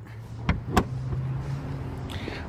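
A Lamborghini Huracan's trunk lid swings shut: two sharp nearby thuds in quick succession, the second the louder, over a steady low idling hum, with a faint mechanical whir following.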